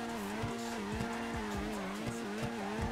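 Racing car in GTA 5 revving with a steady engine drone while tires squeal and skid repeatedly in short bursts, loud and close, with no talk.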